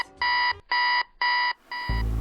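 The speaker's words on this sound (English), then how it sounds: "My alarm just woke me up." An alarm clock rings loudly and close by, sounding three evenly spaced electronic beeping bursts before a fourth burst starts and keeps going.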